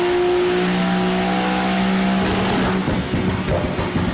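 A Porsche 911 engine revs hard and loud up close, a sustained rising howl that gives way to crackling, popping exhaust bursts toward the end, with no talking.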